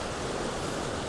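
Watkin Falls on Snowdon, a river cascade heard as a steady, loud, unbroken rush of water from close by.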